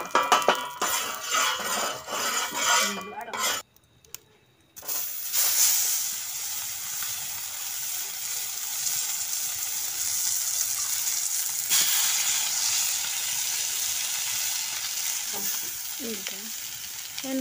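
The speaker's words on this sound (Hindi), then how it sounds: "हम फ्राई होने देते हैं मछली को" Fish fry in hot oil in a large wok-style pan outdoors in a hill village. The loud, continuous sizzling hiss drops out briefly early on, then returns and holds steady with occasional faint clinks.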